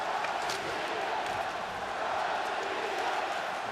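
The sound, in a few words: pro-Russian crowd cheering at ice hockey game in Copenhagen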